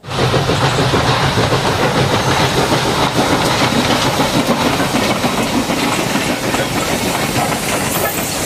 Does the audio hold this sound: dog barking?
no